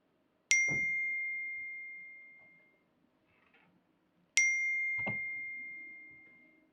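Two separate bright electronic dings, each with a sharp attack and a long ringing decay, a few seconds apart in an otherwise quiet room, like a phone alert in a stage rehearsal.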